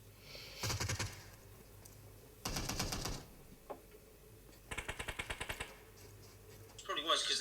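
Gunfire from a PUBG gunfight in a scrim match: several bursts of rapid shots, including a long rattling volley and a run of evenly spaced single shots, moderately close, with a faint voice in the background.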